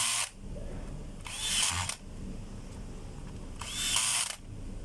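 A DeWalt DWD024 half-inch corded drill runs freshly repaired after a wiring fault, whining in three bursts of high-speed spinning with short gaps between them, close and clear with no talking.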